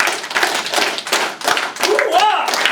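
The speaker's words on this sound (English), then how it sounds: "How many start clapping again?" Freshman students clapping in a high school classroom or assembly, bursts of clapping and stomping in loose rhythmic waves, with a voice calling out over them toward the end.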